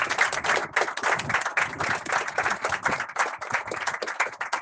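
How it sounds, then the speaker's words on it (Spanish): Church congregation applauding together during a sermon, a dense stretch of steady hand clapping that carries on without pause, with no talking over it. "Denle un aplauso a Jesús."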